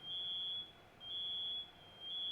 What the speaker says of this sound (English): My mom set off the smoke alarm with that fireplace